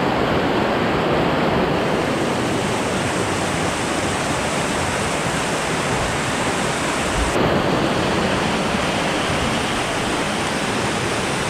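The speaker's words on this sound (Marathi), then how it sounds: "पाण्याचा फ्लो जास्त आहे, पण मला तेच टेन्शन आहे, साला किती खोल असणार इथे पाणी." A strong stream rushes near the Kalu waterfall in Maharashtra, a loud, steady roar of flowing water filling the whole scene without pause, with no voices over it.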